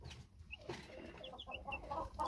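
Close, quiet clucking from a young chicken, a few short soft calls over a low background murmur, with no talk.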